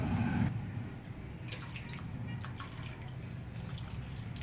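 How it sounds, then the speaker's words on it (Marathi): Water splashes and trickles into a pot of potato curry with a steady low rush, drips and spatters scattered throughout, close by. "त्याच्यामुळे आपल्याला पाणी टाकायचं"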